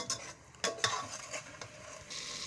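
Red chilli powder, spices and green chillies fry in hot oil for dum aloo methi, with steady close sizzling and several sharp spoon scrapes and knocks against the pan.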